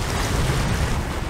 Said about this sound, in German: Wellen von hinten, Wind auch.